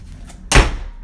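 A closet door in a family bedroom slams shut once, a single sharp loud bang that rings briefly and fades into room quiet.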